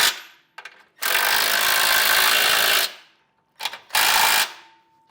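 A 3/4 inch socket tool snugs down hardware while installing a Blue Ox base plate kit on a 2021 Jeep Grand Cherokee, loud close bursts of whirring ratcheting, one long run then a shorter one after brief clicks.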